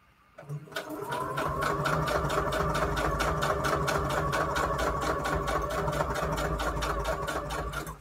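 A sewing machine runs a straight stitch on paper book page pockets, starting after a brief pause and then hammering out a fast, even, loud mechanical rhythm that continues steadily to the end, with no voices.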